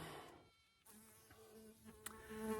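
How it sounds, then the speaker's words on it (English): A bee buzzes faintly on a phone screen outdoors on a Mount Shasta pilgrimage, giving a thin, quiet insect drone with no talking. "there's currently a bee on my phone screen right now."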